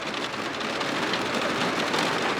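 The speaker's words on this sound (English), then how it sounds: "It is really raining." Heavy rain pours steadily in the mountains, a dense, loud, unbroken hiss with no pauses and no voices.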